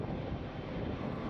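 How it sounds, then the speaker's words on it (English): Broadband roar of a 14-year-old British Airways Boeing 777-300ER jet at Heathrow, a steady, loud engine rumble with wind-like hiss, continuous throughout with no talking. "here's the jet, a 14-year-old Boeing 777-300ER"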